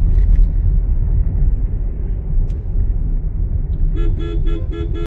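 Road traffic on the way to the Konkan during the Ganesh festival, with a steady low engine rumble and cars passing, then several short repeated horn toots near the end.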